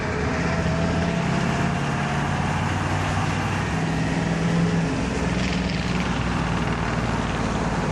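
A Ford F350 Bullnose truck engine runs steadily on the move, a dense, loud drone with a low rumble held throughout, no voices.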